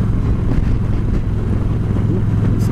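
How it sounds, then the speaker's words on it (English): Strong wind gusts buffet the microphone of a motorcycle rider on a road near plateaus, producing a loud continuous low roar with a faint steady engine drone beneath. "Some nutty wind gusts through here."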